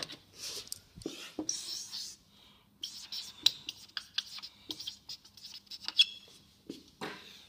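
A stylus scratches and taps across an iPad screen while drawing an atom, with quick close strokes in irregular bursts, a short pause, then more scribbling.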